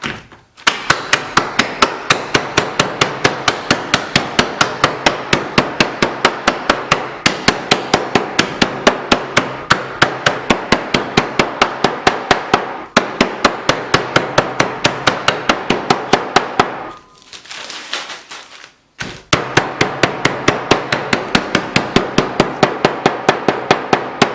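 Cinnamon sticks are broken up inside a bag for a ginger cinnamon spice tea blend, making dense, rapid cracking and snapping bursts close by, nearly continuous with a short pause, no talking.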